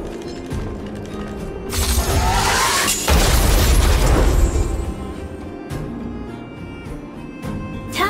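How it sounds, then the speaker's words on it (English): An Automaton Spider explodes in the video game Honkai Star Rail, a loud burst with a shattering crash that swells into a roaring rumble, then gives way to quieter mechanical clicks and whirring. "trigger an explosion to disperse the disruptive workers"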